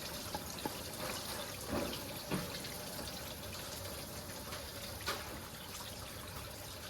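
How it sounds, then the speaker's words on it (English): Coolant drains from a Honda Accord V6 during water pump replacement, trickling and dribbling steadily, with a few faint clinks over a continuous low splashing flow. "we got the fluid draining"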